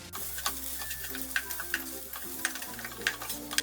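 Spices, garam masala and roasted fennel powder, are stirred in a pan for egg biryani: repeated scraping spoon strokes over a soft, steady sizzle.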